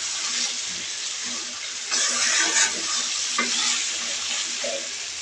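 Pieces of hilsa fish fry in a pan with a steady, close sizzle that swells into louder crackling bursts around the middle, with no voices.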